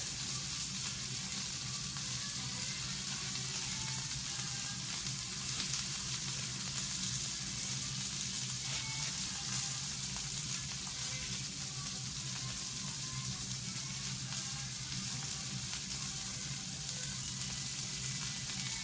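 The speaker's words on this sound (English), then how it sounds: "Yes, it is officially boiling now." A pot of boiling water for cooking gnocchi gives off a steady, dense bubbling hiss that stays even and continuous throughout with no talking over it.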